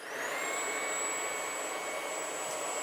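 Tineco A10 cordless stick vacuum with an attachment sucking up protein powder and popcorn, a steady high-pitched motor whine with airy suction rush, close and constant throughout, no talking.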